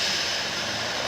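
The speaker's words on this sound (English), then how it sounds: "Go 2 more little planes." A small propeller airplane passing, a loud steady broadband engine drone with a faint propeller hum, continuous and close throughout, with no talking.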